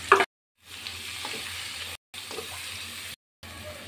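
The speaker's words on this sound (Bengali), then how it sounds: "আমি পেঁয়াজগুলো লাল লাল করে ভেজে নেব।" Chopped onions fry in hot oil for a meat curry, giving a soft, steady sizzle that breaks off in two brief silent gaps, with faint stirring clicks and no voices.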